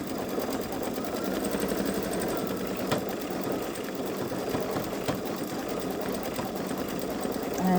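Baby Lock Solaris embroidery machine stitching out a hummingbird and flower design, giving a steady, continuous mechanical hum with fast rhythmic needle chatter throughout and no pauses.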